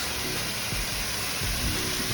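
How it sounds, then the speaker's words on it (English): Artificial waterfalls at a college fest at BITS Pilani Hyderabad give a constant, even hiss of falling water, filling the scene steadily with no breaks and no voices. "They have switched on the artificial waterfalls."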